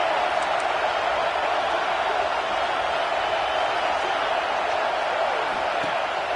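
A steady roar of stadium crowd noise from an NCAA 26 college football game fills the whole stretch, dense and constant, with faint cheering swells and broadcast commentary mixed underneath.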